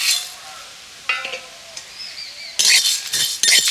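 Whole spices being dry roasted in a kadai: coriander, cumin, dried red chillies, cinnamon, cardamom and cloves. They give faint sizzling and a few scattered clinks and stirring scrapes, with louder rattling bursts toward the end.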